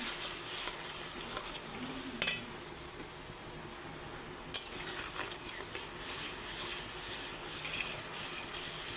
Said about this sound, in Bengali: এখন মশলাটাকে 5 মিনিট কষিয়ে নেব।